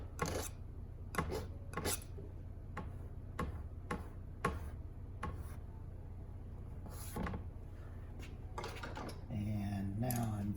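Excess paint scraped off an abstract landscape painting, a series of short dry scratching strokes at irregular intervals, quiet and close, with a rougher rubbing sound near the end.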